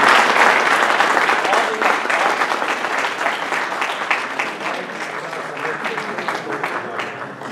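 An audience at a mushaira, an Urdu poetry gathering in New Jersey, breaks into loud sustained applause, dense clapping that gradually thins and fades slightly over several seconds.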